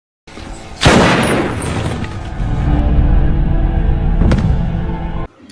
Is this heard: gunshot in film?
yes